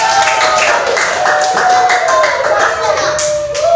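Clapping from a classroom of pupils during a lesson, mixed with children's voices and chatter, steady and fairly loud throughout.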